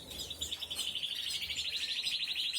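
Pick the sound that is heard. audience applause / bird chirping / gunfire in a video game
bird chirping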